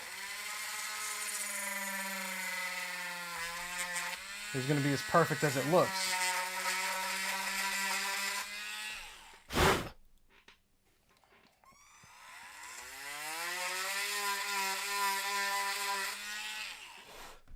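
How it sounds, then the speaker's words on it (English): A power drill bores into a small piece of mystery plastic from an AxyToys Dinosaur Warrior toy ankle, whining and buzzing in two close bursts with a sharp click between, while someone talks over the start. "I'm going to drill in the center"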